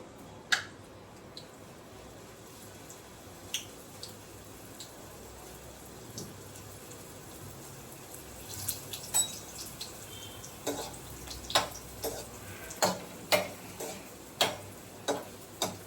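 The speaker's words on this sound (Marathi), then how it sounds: "आणि आता ह्या मी छान तळून घेते." Chirote pastries fry in ghee in a kadhai, a soft continuous sizzle with sharp ticking pops that grow more frequent and louder, close by.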